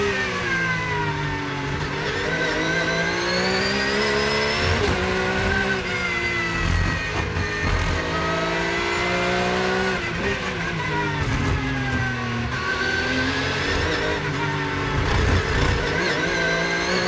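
A Lamborghini DTM race car on a flying lap, its engine screaming continuously as pitch climbs and drops through gear changes and corners, loud and close throughout with no voices.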